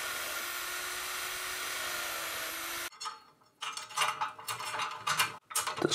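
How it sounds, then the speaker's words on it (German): A small power drill bores and countersinks holes for a homemade holder for a 20-litre jerrycan. A steady, continuous whine runs for about three seconds, then short, uneven bursts of cutting follow, all close by. "Löcher bohren und senken."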